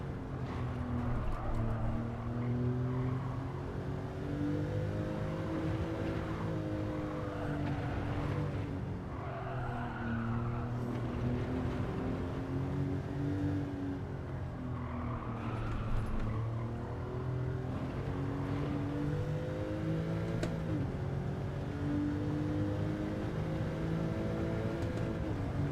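Race-car engines in a racing game, a Porsche and a Honda Civic lapping the Nürburgring, with a sustained droning engine note that rises and falls through the chicanes and tyres squealing throughout, loud and constant with no voices.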